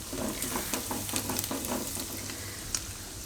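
Puffed rice tossed with mint, coriander and curry leaves in hot oil for a panipuri-flavoured snack, giving a steady crackling sizzle with repeated light stirring and scraping, close and continuous.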